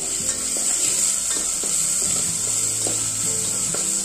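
Tomatoes seasoned with salt sizzle steadily in a pan while being stirred, with scraping strokes of the spoon against the pan over a continuous frying hiss.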